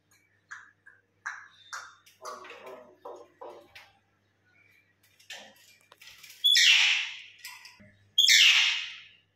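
A pet myna bird squawks and chirps close by, starting with short scattered chirps and calls, then two loud, harsh squawks near the end.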